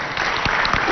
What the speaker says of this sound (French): On applaudit pour le groupe 4 aussi.